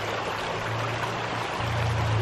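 Water rushes steadily through a ram pump at a small-to-medium creek as its valve is pushed repeatedly to fill the delivery pipe, a constant broadband flow with a low hum that swells toward the end.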